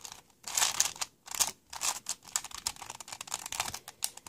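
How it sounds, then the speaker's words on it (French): A Rubik's Tower puzzle being scrambled, with a rapid series of dry plastic clicks and clacks from quick twists, close and irregular in rhythm, with no speech. "Donc, on va d'abord le mélanger comme ça."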